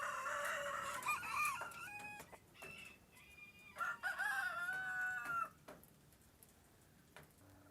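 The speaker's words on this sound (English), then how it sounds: "So the chickens kind of scratch around in there." Chickens and a rooster on a farm, with several close, loud crows and clucks in the first half, then quieter scattered clucking and faint rustling.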